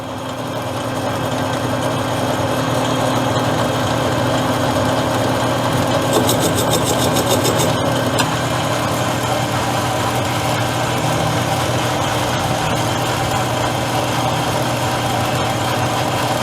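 Metal lathe taking a cutting pass on scrap plumbing brass being turned into brake reservoirs, a steady continuous machine drone with faint cutting hiss, running alone at even loudness throughout.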